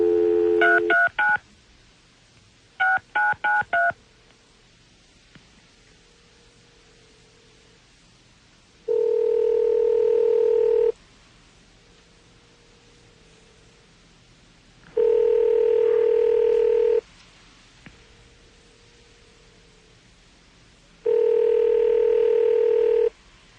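Telephone keypad tones dialing in two quick bursts, then a steady dial-style tone sounding in three long, evenly spaced blocks separated by quiet gaps, clear and close with no talk.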